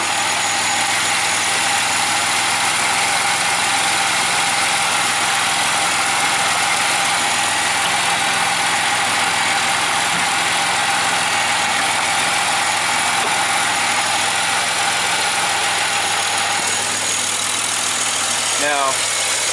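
A newer GM car sits idling nearby during a coolant system flush, giving a steady, dense engine drone with hiss that runs unbroken for the whole stretch.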